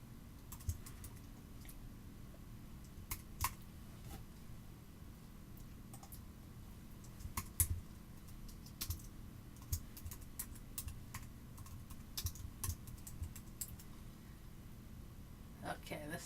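Fast, light keystrokes on a computer keyboard come in irregular bursts, with a few louder clacks over a low room hum. No speech is heard.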